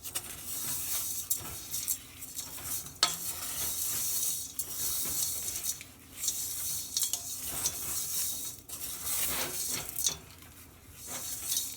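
A wooden spoon stirs melting sugar in a pan, scraping and sizzling continuously with steady hiss and irregular scrapes and taps against the pan, no voices.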